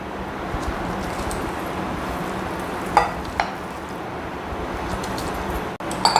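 Continuous soft scraping and sloshing as a thick semolina and mango mixture is stirred in boiling water, with a few light clicks of a utensil against the pan.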